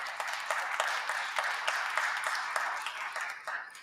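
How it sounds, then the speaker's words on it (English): Audience applause at a brass concert for the ensemble's horn player, a moderate crowd clapping with distinct individual claps audible, fading toward the end. "if you want to give her a round of applause"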